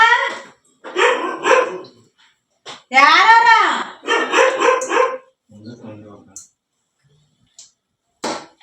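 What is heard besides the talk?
dog barking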